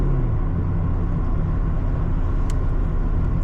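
A Ford Mustang fitted with a Loudmouth catback exhaust drives steadily, giving a continuous low engine rumble and road roar from inside the car, with no talking.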